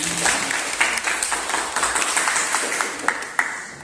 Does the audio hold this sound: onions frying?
no